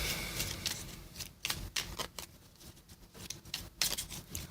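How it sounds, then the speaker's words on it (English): Board game cards are shuffled up close in a quiet room, giving soft papery riffles and flicks in irregular bursts. "I probably just need to shuffle these"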